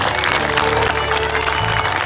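A church congregation at a convention in the village of Lopa Pakiwan applauds together, a steady, dense wash of hand clapping that fills the whole moment with faint crowd sound beneath.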